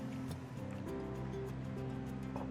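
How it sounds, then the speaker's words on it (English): Water pours steadily onto sliced beets in a kitchen while they are being readied for pickling, a soft continuous splash that sits beneath background music for the full stretch. "We add a little water."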